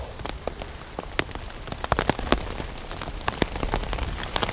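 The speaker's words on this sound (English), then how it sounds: "Nothing better than listening to some rain outside the tent and staying dry." Steady rain falling on a Wenzel Starlite tent in the middle of the night, heard from inside as a constant patter with many distinct close drops tapping the fabric.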